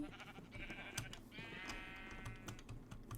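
Sheep in the Minecraft video game bleat in a few wavering calls over a busy background with clicking, keyboard-like taps throughout.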